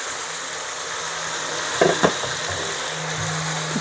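Tomatoes and masala frying in a pan for chana dal with karela, giving a steady sizzling hiss, with a couple of brief stirring knocks midway and no talk.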